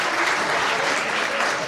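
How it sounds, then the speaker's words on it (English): Audience clapping at an inter-collegiate English proficiency test event, a steady dense round of applause that is moderately loud and even throughout, with no voices over it. "Come on, clap your hands,"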